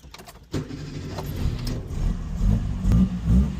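An MK1 Ford Fiesta engine with a newly replaced throttle cable, revving up from idle after a sharp click, the engine note swelling in a few uneven surges close by.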